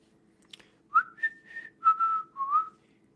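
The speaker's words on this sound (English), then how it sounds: "listen to my amazing whistling skills" A person whistles a short tune close to the mic, with a few separate clear notes and one sustained note, against a faintly humming quiet room.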